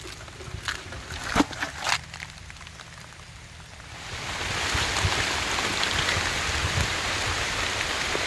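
Heavy storm rain pours over a farm field during harvest, starting with a few scattered knocks and then swelling into a dense, steady hiss of downpour that holds to the end.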